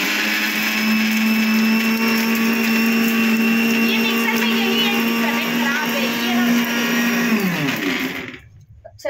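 A mixer grinder crushes unpeeled garlic in a loud, steady whirring drone for several seconds before winding down and stopping; voices talk faintly over the motor.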